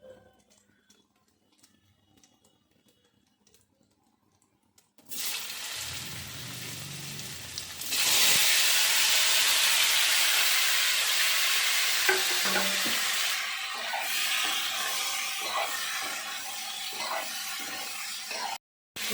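Lightly boiled potato and kohlrabi drop into hot oil tempered with cumin, after fried tangra fish, bursting into a loud, close, steady sizzle that swells further and then holds, after a few quiet seconds.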